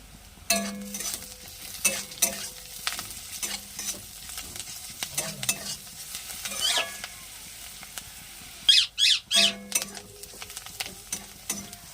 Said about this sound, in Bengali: পেঁয়াজ রসুন ভালোভাবে ভাজা হয়ে গেছে।